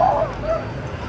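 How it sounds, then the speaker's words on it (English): A dog heard outdoors near a riot and protest scene under a bridge, giving a short yelping bark or whine, fairly near, over steady crowd and street background noise. "Is that a dog?"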